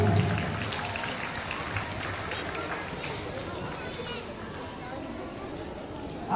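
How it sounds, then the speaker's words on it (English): Audience applause at a school birthday celebration event, a fairly soft, steady patter of clapping from a seated crowd with a murmur of voices underneath. "Big round of applause for Kaushik."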